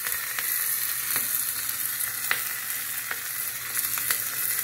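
Hot oil for tempering hisses with a steady, close sizzle in a pan, a few sharp crackles popping through the dense frying hiss, with no voices.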